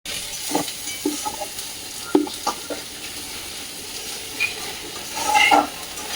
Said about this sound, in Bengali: টমেটো পেস্ট দিয়ে দিচ্ছি দুটো বড় সাইজের এটাকে ভালো করে এখন কষে নিব